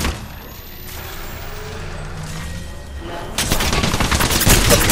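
Rapid gunfire in Apex Legends aimed at the player, a dense burst of shots that grows louder and busier in the final seconds, with no talk.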